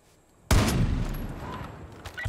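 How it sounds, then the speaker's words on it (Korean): In the video game Far Cry 5, after a brief quiet moment, a sudden burst of rapid gunfire erupts and keeps rattling in a loud, continuous volley. "소리 들려 짐? 총소리?"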